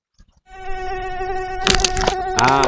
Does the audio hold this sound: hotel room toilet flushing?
no